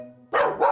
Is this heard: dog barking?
yes